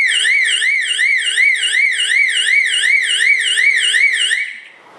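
An Albox FA2406 fire alarm panel sounder wails in a rapid, steady warble, loud and continuous for several seconds, then cuts off abruptly.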